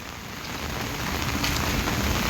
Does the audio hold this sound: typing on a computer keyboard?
no